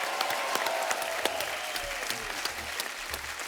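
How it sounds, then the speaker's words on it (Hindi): A studio audience on a Hindi television comedy talk show claps hard and steadily for about three and a half seconds, a dense wash of hand claps without speech. "जोरदार तालियां।"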